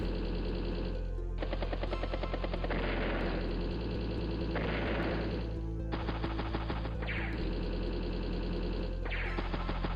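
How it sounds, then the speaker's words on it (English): Machine gun fire rakes a tank in the turn-based war game Advance Wars: Days of Ruin, with loud rapid bursts of rattling shots repeating in cycles alongside a low rumbling hum and brief whooshing impacts, no voices. "Even with those machine gun rounds into it."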